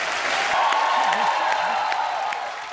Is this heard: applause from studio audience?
yes